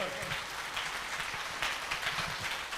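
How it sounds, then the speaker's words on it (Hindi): Audience applause at a standing ovation for a personal story at a motivational talk, a steady wash of many hands clapping at moderate level, fairly distant and even throughout. "खड़े होकर के एक जोरदार ताली इनके स्टोरी के लिए"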